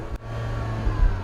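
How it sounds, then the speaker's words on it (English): A 2010 MINI Cooper S, a six-speed with 175 horsepower, idling steadily with a low, even engine hum close by and a slight swell near the end, with no talking. "if you're listening to this, that's the sound of the engine"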